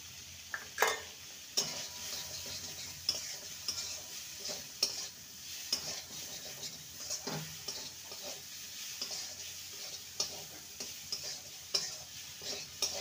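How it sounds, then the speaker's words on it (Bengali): Garam masala powder goes into a spiced masala being sautéed in a pan for a cauliflower chop: repeated, irregular spatula scrapes over a soft, steady sizzle, close and fairly quiet, with no talking. "ভালো করে কষিয়ে নেব। দিয়ে দেবো গরম মশলার গুঁড়ো,"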